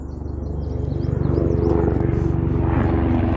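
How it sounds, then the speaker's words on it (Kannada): A helicopter drones steadily overhead, its low rhythmic rotor thrum growing slightly louder and holding strong, with no voices. "ಮತ್ತೊಂದು ಹೆಲಿಕಾಪ್ಟರ್."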